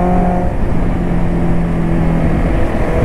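A motorcycle's exhaust drones loud and close while riding, a steady low rumble with engine tones that barely change and no speech.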